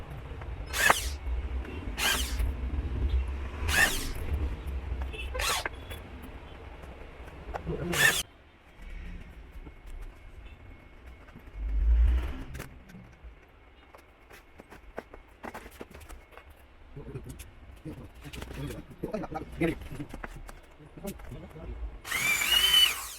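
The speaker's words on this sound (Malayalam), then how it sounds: "ഇനി അതിൻ്റെ പുറത്ത് പോളി ഷീറ്റ് വെച്ച് സ്ക്രൂ ചെയ്യാന്നുള്ളതാണ് ചെയ്യാൻ പോകുന്നത്." A power drill drives screws through a poly sheet onto a frame for an LED pixel round board, with several short, loud bursts early on, then quieter handling noises and someone talking.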